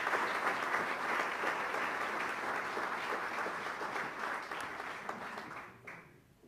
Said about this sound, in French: Bonne main d'applaudissements.